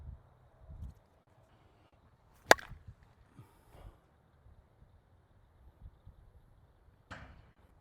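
An Easton Negotiator baseball bat, USA and USSSA models, strikes a ball with two sharp, isolated cracks several seconds apart, with faint rustling and near-silence in between.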